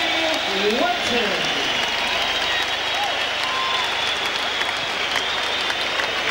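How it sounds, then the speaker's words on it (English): A boxing arena crowd at a Nigel Benn versus Henry Wharton fight applauds for Wharton, sustained dense clapping and cheering throughout, with a voice briefly heard over it at the start. "Have a hand for Henry Wharton."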